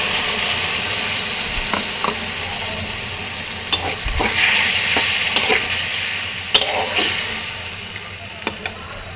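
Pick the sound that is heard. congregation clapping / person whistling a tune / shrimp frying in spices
shrimp frying in spices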